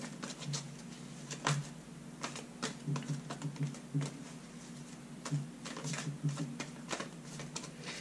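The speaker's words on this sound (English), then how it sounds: "It almost feels like these cards just want to be shuffled today." Tarot cards shuffled by hand during a daily card reading, giving a close, dry run of quick papery clicks and riffles in uneven bursts, with no talking.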